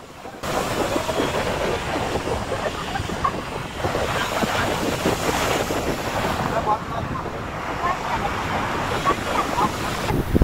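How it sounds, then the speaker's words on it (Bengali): Rough ocean waves crash and wash onto the shore at Digha beach, a loud, unbroken roar of surf heavily buffeted by wind gusting across the microphone. "সুন্দর সুন্দর ঢেউগুলো আছড়ে পড়া সেই ভিউটা আছে।"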